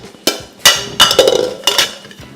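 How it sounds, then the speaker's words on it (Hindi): Whole white cumin, coriander seeds and black pepper pounded coarsely, giving four sharp, close knocks at uneven intervals, each followed by a short rattling clink. "इसको मैं कूट रहा हूँ, पीस रहा हूँ"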